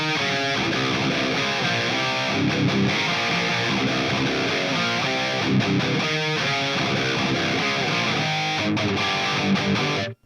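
An electric guitar played through a UAFX Anti amp pedal, with the ToneX pedal bypassed, gives a full, driven amp tone in dense strummed chords and riffs, loud and continuous before stopping abruptly at the end.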